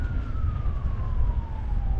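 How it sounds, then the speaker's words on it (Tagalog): Ambulance siren on a chilly road ride near falls, a steady tone gliding gradually downward beneath loud wind buffeting and low engine noise. "Yan mga idol oh, may ambulansya pa."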